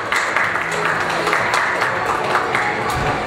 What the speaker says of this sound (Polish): Brawa dla Justyny!